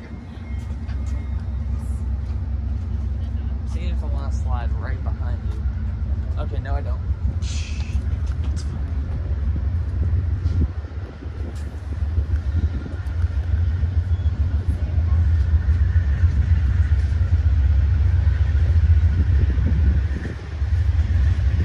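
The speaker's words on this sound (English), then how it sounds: "we got Amtrak 6 today" Amtrak passenger train rolling past at Roseville, a loud steady low rumble filling the whole stretch with brief horn-like tones early on, while people talk nearby.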